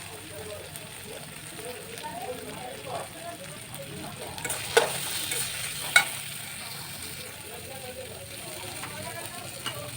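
Boiled chickpeas sauté with spices in a pan, a soft continuous sizzle with scraping stirs and a couple of sharp clinks, while a person talks over the cooking.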